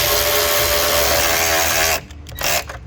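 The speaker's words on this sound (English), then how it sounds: "Now we'll use a size 10mm socket to secure this down." A power tool spins a 10mm socket to tighten the battery hold-down strap on a 2013 Scion FR-S, whirring steadily and loud for about two seconds, then stopping, followed by a brief short burst.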